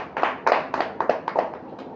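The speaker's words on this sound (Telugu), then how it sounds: "అందరూ ఒకసారి క్లాప్స్ కొట్టండి." Hands clapping at a Sunday church gathering, about eight distinct claps in an uneven rhythm, close and fairly loud.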